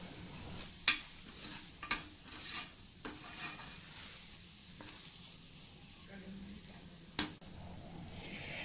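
A masala of ground fennel and poppy seed sautéed in oil for mutton kulambu, with a faint steady sizzle broken by several sharp metal clinks and scrapes of a spoon against the vessel, no talking.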